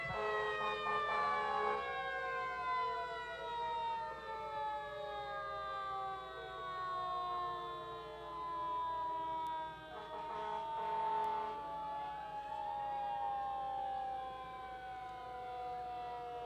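Fire trucks, some of them antique engines, sound their sirens in a 1998 Burlington Fourth of July parade: loud wailing tones sweep up and down repeatedly, overlapping one another with a steady rumble underneath.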